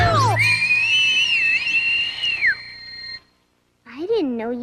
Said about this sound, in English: I didn't know you could whistle that loud